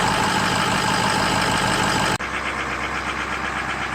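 A cold truck engine idles with a steady, loud, even rumble as its turbo gets ready to spool; the sound cuts sharply and then carries on slightly thinner.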